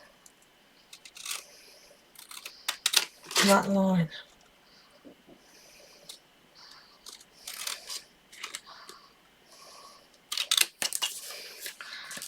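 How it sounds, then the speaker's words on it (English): Scissors snip along a line on card while making a birthday card: a few close, crisp cutting crunches in short bursts, with soft handling noises and someone speaking in between. "I'm going to use my scissors"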